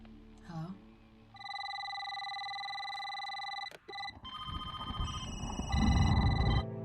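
Several old-style telephones in a house ring together in a scene from the 2005 film Constantine, their bright electronic bells layering into a loud, sustained jangle after a brief murmur at the start.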